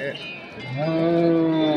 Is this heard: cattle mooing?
yes